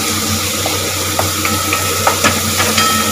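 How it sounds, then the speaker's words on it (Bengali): Tomatoes, eggplant and other vegetables frying together in spice paste for a Bengali pabda fish curry, a steady close sizzle with soft scattered pops and stirring clicks. "একটাতে আমি সমস্ত টমেটো, বেগুন, যা আপনার সবজি আছে এগুলো সমস্ত একসাথে ভেজে নেবো"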